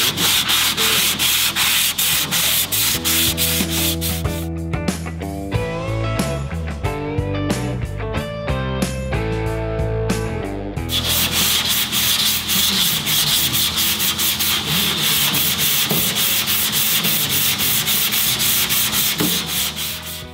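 Body filler on a car being sanded by hand, with fast, rhythmic rasping strokes that run continuously, loud and close, with a brief change in texture partway through and no talk.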